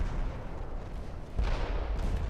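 A warship turret blowing apart in a flash fire during a naval battle in Ultimate Admiral Dreadnoughts, heard as a dense, continuous low rumble of gunfire and explosions with a heavier boom partway through.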